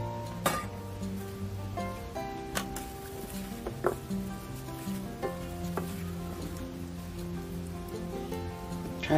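Radish kimchi (altari) being tossed and mixed by hand with seasoning paste, producing a soft, continuous wet squelching and rustling close by.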